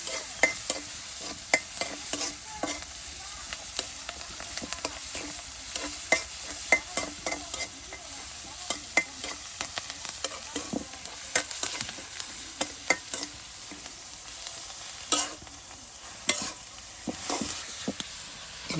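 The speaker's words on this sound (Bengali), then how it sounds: "এখন পেঁয়াজ রসুন বেজে নেওয়া হচ্ছে তেলের সাথে।" Onion and garlic fry in oil while being stirred, a soft steady sizzle broken by frequent sharp scraping and clinking strokes of a spoon against the pan, close and continuous.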